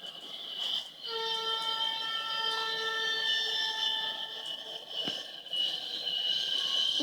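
A Norfolk Southern train with a broken horn sounds a sustained multi-tone chord that holds steady for several seconds over a background rumble, fairly loud and unbroken.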